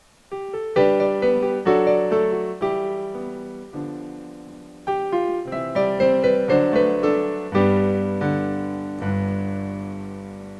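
Casio CGP-700 digital piano heard only through its line outputs, chords and melody played cleanly with no other sounds, notes struck in phrases with sustained decays, close and moderately loud.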